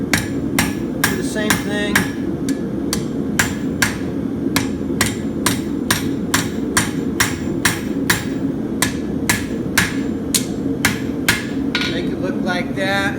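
A hammer strikes a steel horseshoe on an anvil in quick, regular blows, about two to three per second, loud and close, ringing sharply, with a man's brief remark over them.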